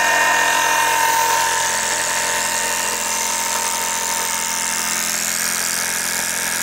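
Neodymium magnet motor in a Gerard Morin replication spinning up, a loud continuous high whine with steady tonal hum that holds constant and close throughout, no talk.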